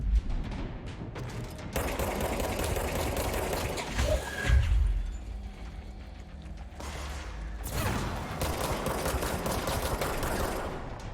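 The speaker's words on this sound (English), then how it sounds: "Looks like 3 bullets exploding." Exploding rounds in the action game Control: bursts of rapid, rattling fire with mechanical clicks and a low thump midway, falling to a quieter lull before another dense burst near the end.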